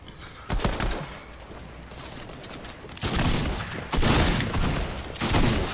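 Gunfire in the video game Fortnite: rapid bursts of loud shots fire in quick succession, with clusters of repeated cracks rising and falling across the clip.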